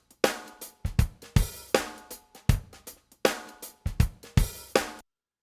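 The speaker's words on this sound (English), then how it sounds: "So I'm going to start with this drum beat here" A solo drum beat plays alone, a steady loop of punchy kick and snare hits with bright cymbal wash, about two bars before stopping dead.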